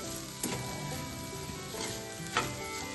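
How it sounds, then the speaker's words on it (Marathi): Potatoes with crushed peanuts sautéed in a pan for sago khichdi, a soft continuous sizzle with occasional clinks and stirring scrapes, heard close and alone. "साधारण 2 मिनिटं असं परतून घ्यायचं, म्हणजे बटाट्याला शेंगदाण्याचा कूट हा छान लागून घेतो"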